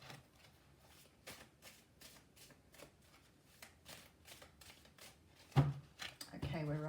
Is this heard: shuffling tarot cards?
yes